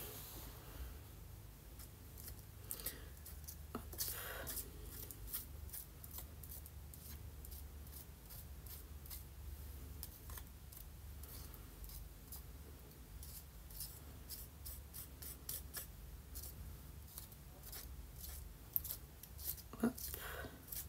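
A tool scrapes craft foam sheet in quick, faint, rhythmic strokes that repeat steadily for the whole stretch, close to the microphone, with only a little quiet talk now and then.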